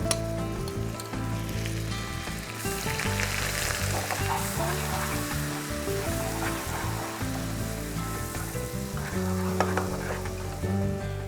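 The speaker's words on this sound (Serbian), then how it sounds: "I na puteru pržim" Finely chopped onion frying in butter in a pan over medium heat, a steady, close crackling sizzle that runs throughout with no talk.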